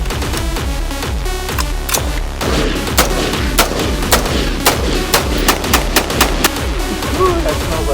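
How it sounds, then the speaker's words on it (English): Repeated gunshots fired outdoors during a Labor Day outing, sharp loud reports at irregular intervals, some close together, over continuous background rumble and shuffling. "About to shoot a fucking gun, brother."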